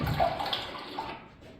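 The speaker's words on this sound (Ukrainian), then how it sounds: "Прислухайте, це ж струмочок весняний співає." A spring stream babbles as water gushes and splashes steadily, loud at first and then slowly fading over a short stretch, with no voices.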